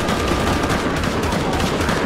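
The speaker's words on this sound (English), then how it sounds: "Hello, stop shooting." Rapid gunfire rattles through a firefight in Shadow of the Tomb Raider on PS4, a steady, loud barrage of overlapping shots with no pause across the whole stretch.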